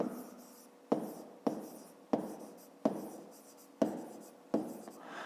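Handwriting with a pen or pencil on paper, a series of about seven short scratchy strokes, each starting with a sharp tap and fading quickly, close and quiet with no voices.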